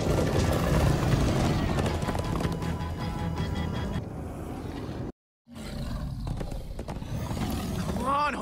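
Horses gallop in the Minecraft Story Mode video game, a steady rush of hooves and roaring game sound under loud continuous chatter, broken by a brief dropout before the galloping resumes.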